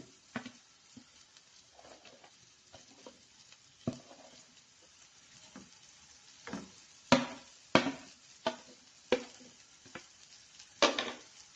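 Pumpkin curry being stirred in a frying pan, with soft scraping strokes and sharp spoon knocks against the pan rising in the second half over a faint sizzle; no talking.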